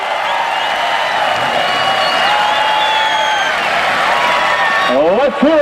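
A crowd at a rough truck event in Tuscarawas County applauds and cheers a driver with steady, loud clapping and whoops, while an announcer talks over the noise near the end.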